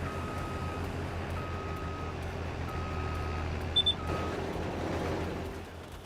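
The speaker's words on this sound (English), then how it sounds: "Whoa, back up the truck." Truck reversing alarm in Farming Simulator 22 on the Carpathian Countryside map, sounding a steady series of evenly spaced beeps over a constant low engine drone, with a brief higher chirp near the end.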